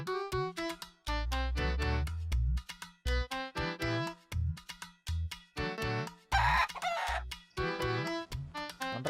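Chickens cluck in quick, repeated bursts while a rooster crows loudly and close by, standing out alone against a quiet background.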